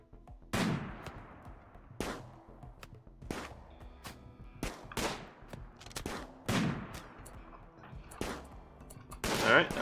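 Repeated gunshots in RimWorld, roughly eight sharp cracks spaced about a second apart, each ringing out with a short decaying tail, firing alone without talk.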